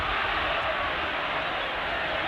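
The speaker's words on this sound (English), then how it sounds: "And you can hear the cheer every time McCarthy touches the ball" Spectators at the 1971 rugby league grand final between Souths and St George cheer as McCarthy gets the ball, a steady broad roar of a large distant crowd that holds level throughout.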